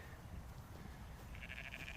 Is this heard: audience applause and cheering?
no